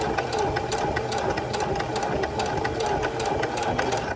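A sewing machine stitches fabric along a guide to the edge, close and steady as a continuous fast mechanical whir with a fine rhythmic rattle, with no pauses.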